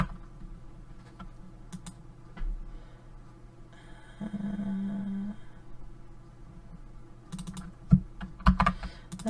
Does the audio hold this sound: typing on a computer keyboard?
yes